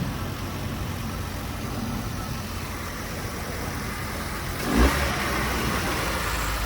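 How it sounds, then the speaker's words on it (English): A damaged car, jump-started at a city vehicle auction, runs with a steady low engine drone at fairly close range, with a brief rise in revs near the end. "Engine sounds pretty good on it, folks."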